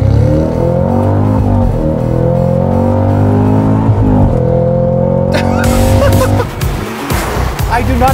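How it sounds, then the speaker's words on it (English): A Cadillac CT5-V Blackwing's supercharged V8 roars loudly up through the gears with flat-foot power shifts, its steady rising pitch cut by sharp breaks at each shift, heard close over road noise. "I do not take my foot off the clutch. I just simply power shift every gear."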